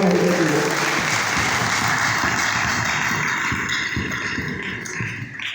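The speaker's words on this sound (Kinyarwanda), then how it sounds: "tuyiha amashyi menshi cyane iyo Mana y'agaherezo" A church congregation applauding in praise, dense sustained clapping from many hands throughout, loud and close, slowly tapering slightly toward the end.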